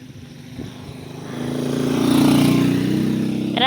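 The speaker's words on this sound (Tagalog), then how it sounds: "At may motor pa talaga." A motorcycle approaches and passes close by, its engine swelling to a loud drone midway before fading slightly.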